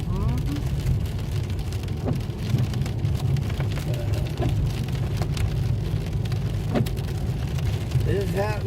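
Steady rain falls during a drive after a storm, a dense continuous hiss of drops over a low car rumble, with occasional louder splats and no one talking.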